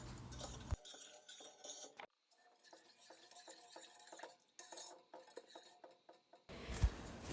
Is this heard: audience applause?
no